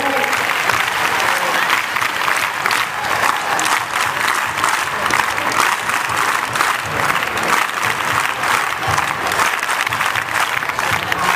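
A crowd at an event claps loudly to welcome guests, dense, vigorous applause that holds for about eleven seconds with some crowd noise mixed in.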